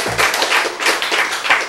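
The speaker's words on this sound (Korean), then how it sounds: "누구한테 박수 치는 거요?" Scattered audience clapping swells in a few quick bursts of applause from a lecture crowd, close and fairly loud, with no speech over it.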